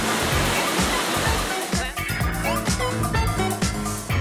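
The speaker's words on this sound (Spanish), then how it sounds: "Es una mini cascada." A small waterfall rushes with a dense, steady roar that fills the whole clip, with faint voices of people nearby on a busy outdoor excursion.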